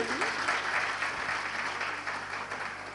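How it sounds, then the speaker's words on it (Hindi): Audience applause at a Jain religious discourse, a steady dense wash of clapping filling the whole stretch, moderately loud and even throughout. "एक बार तालियां बजाओ भाई"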